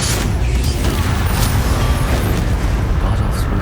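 An Incendio fire spell is cast in Hogwarts Legacy, giving a dense, loud whooshing roar of flame with a low rumbling body that holds steady for several seconds.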